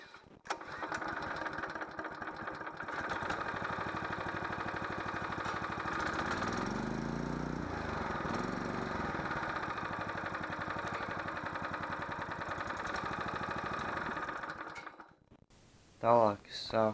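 An old go-kart engine is cranked and catches, then runs at a steady buzzing idle with a rising and falling rev in the middle before cutting off; a voice speaks briefly at the end.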